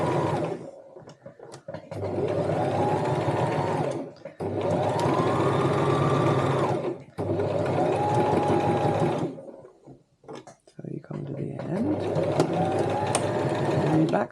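A sewing machine stitches a cosmetic bag in four long, steady runs of motor whir separated by short pauses, fairly close and loud, with no talk over it.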